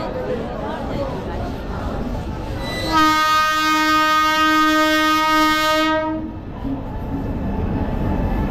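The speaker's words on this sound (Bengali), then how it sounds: "জাস্ট অবস্থা দেখুন ট্রেনের, স্লিপার, এসি, কিছু বোঝা যাচ্ছে না যে কোনটা জেনারেল কোনটা এসি" A train at a crowded railway station at the Prayagraj Kumbh Mela sounds a long, loud horn for about three seconds over the constant roar of crowd noise and rail rumble.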